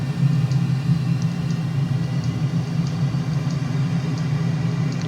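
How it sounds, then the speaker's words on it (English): F-35 jet engine in Microsoft Flight Simulator, a steady low rumbling drone that holds loud and even throughout, with faint high ticks above it and no voices. "you can hear the engine spooling up all by itself, which is super cool."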